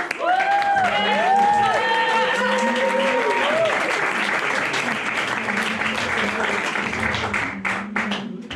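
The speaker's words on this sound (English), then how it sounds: "Can we give him a huge round of applause?" An audience at a comedy poetry show applauds loudly, dense clapping sustained for several seconds and slowly thinning toward the end, while a voice speaks over the start.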